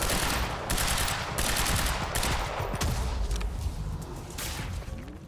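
Rapid shotgun blasts and heavy gunfire in the video game Quantum Break, loud repeated close bursts with whooshes, fighting continuing throughout.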